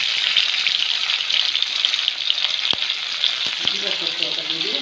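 Green chilies and five-spice seeds fry in a hot wok with a dense, continuous sizzle, loud and close, broken by a couple of sharp pops or clicks near the end.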